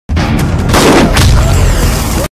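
Pistol gunfire erupts in an Indian action film, a loud, dense burst of booming shots running together for about two seconds before cutting off abruptly.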